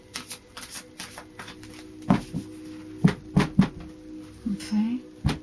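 Tarot cards are shuffled in a few quick bursts of riffling and snapping, fairly close and moderately loud, with short pauses between the bursts.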